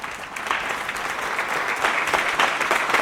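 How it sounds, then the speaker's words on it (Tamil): An audience at a Tamil student speaking event gives a steady round of applause, a dense, continuous patter of many hands that swells slightly toward the end, with no speech over it. "அவருக்காக ஒரு நல்ல கைத்தட்டல் கொடுத்துடலாம்."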